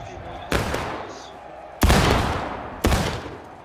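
Three sharp musket volleys from a video game battle, spaced roughly a second apart, each a loud crack with a long decaying roar, over a steady low background.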